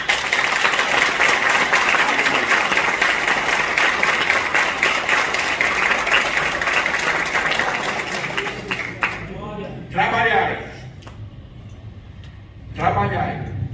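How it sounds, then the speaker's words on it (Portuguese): A church congregation applauds loudly and steadily for several seconds, then the clapping fades and a voice speaks in a large room. "Pode aplaudir o Senhor"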